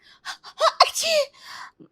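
A cartoon character in an animated moral story fakes a sneeze: a few short breathy vocal bursts and a gasping inhale build up to a sharp, exaggerated sneeze, followed by a brief trailing sound.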